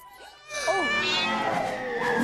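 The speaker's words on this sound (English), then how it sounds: "This cat's aggressive." A cat in the film Matilda meows aggressively, giving whining, rising and falling cries that swell and continue under a busy, loud film soundtrack.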